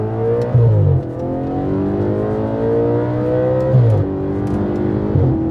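An Audi RS5 with a V8, sport exhaust and mid pipes revs hard through the gears, loud and close, its engine note climbing steadily, dropping briefly at each shift, then rising again.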